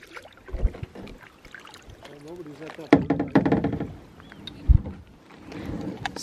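A canoe paddled one-handed across water, with soft splashes and knocks of the paddle against the hull amid light wind, while people talk nearby throughout.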